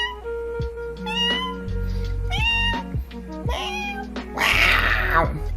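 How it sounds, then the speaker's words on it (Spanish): A cat meows several times in a row, the drawn-out calls rising and falling, the last one louder and harsher, close by with no talk over them. "como el sonido del gatito"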